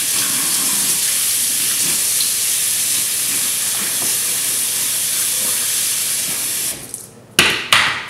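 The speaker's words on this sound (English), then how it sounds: "we have to turn on the faucet like this" Water runs steadily from a kitchen faucet with a constant hiss, then cuts off near the end, followed by a couple of brief splashes.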